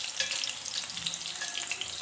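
Chicken kebabs frying in a pan after being turned, a dense, bright sizzle with constant crackling and spitting oil, steady and close, with no voices.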